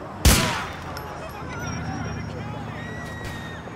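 A single loud gunshot bursts out early in a Grand Theft Auto IV street scene, followed by a steady hum of city ambience and distant crowd babble.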